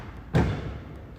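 A single sudden fireworks boom outside, a heavy muffled thud that fades into a lingering rumble, heard from indoors without speech.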